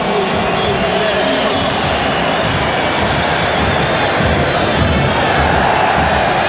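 Football stadium crowd at a Grêmio versus Fluminense Brazilian league match, a loud dense roar of many voices filling the whole stretch, steady and distant, with a commentator talking over it.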